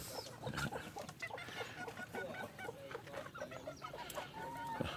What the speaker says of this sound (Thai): เลี้ยงไก่ไว้กิน